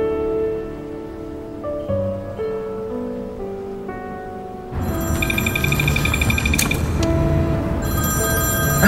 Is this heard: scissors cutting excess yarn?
no